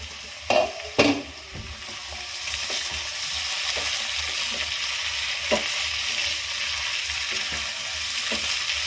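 Spiced potato and pointed gourd fry in a covered pan, with a couple of clanks as the lid comes off at the start, then a steady close sizzle with occasional light stirring taps.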